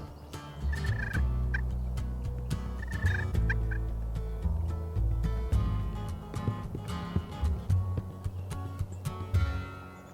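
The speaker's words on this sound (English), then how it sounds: "another gobbler appeared in the field and he was headed right to us" A wild turkey gobbler gobbles in a field during a Michigan turkey hunt, several rattling gobbles rising above a busy outdoor background, fairly close and repeated at irregular intervals.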